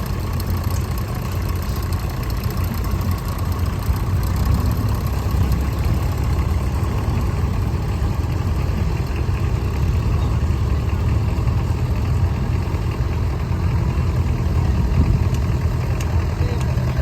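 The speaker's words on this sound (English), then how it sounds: "Young lad driving this little blue one coming along." A small blue mini tractor runs at the Smallwood Steam & Vintage Rally, its engine giving a steady, continuous mid-to-low hum for the whole stretch amid outdoor show ambience.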